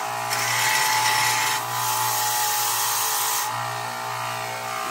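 Angle grinder stripping mill scale from a steel blank for a Bowie knife or meat cleaver, a loud continuous high-pitched whine with brief dips as the tool lifts off and bites again.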